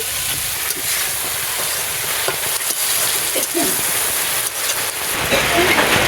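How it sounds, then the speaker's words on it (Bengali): Steady rain falls on a rural village home under a darkened sky, a constant broadband hiss with scattered drop patters, continuous and fairly loud with no talk. "বৃষ্টি শুরু হয়ে গেছে"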